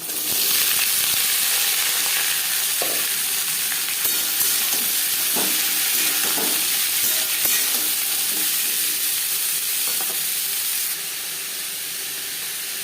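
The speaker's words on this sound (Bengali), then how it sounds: "কালো জিরে লঙ্কার সাথে পনেরো কুড়ি সেকেন্ড কালো জিরে ভেজে নেওয়ার পর দিয়ে দেবো আলু" Potatoes go into hot oil already frying nigella seeds and chili for a potato chorchori, giving a loud, steady sizzle and hiss throughout with occasional soft stirring clicks, easing slightly near the end.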